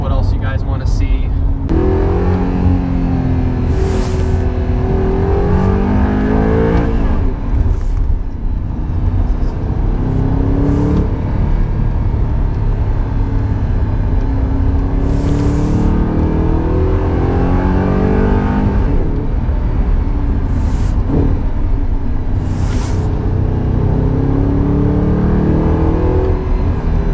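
A 420-horsepower Audi R8 cruises and accelerates, its engine note rising and falling in repeated revving pulls, loud and close, with short bursts of wind noise and someone talking over it.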